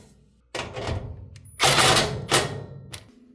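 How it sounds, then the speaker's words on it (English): Power tool driving a screw to secure the exhaust pipe on a Maytag dryer, several short loud whirring bursts with pauses between, close by and without speech. "Tighten the pipe with a screw."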